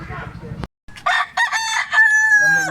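A rooster crows loudly and close at a gamecock market in Consolacion, Cebu, its long drawn-out call following a few brief clucks and some nearby voice noise.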